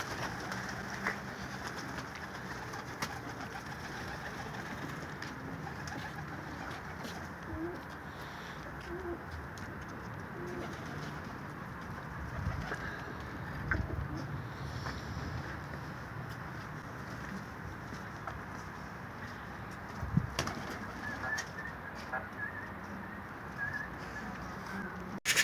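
Soft pigeon cooing over a constant outdoor hiss, faint and distant, with an occasional clatter.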